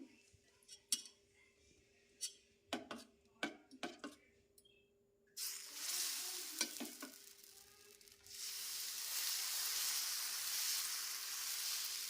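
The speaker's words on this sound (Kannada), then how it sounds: "ಇನ್ನೊಂದು ದೋಸೆ ಹಾಕ್ತೇನೆ" Sweet corn dosa batter hits a hot pan and breaks into a loud, steady sizzle, preceded by a series of sharp clinks and scrapes of a utensil against cookware.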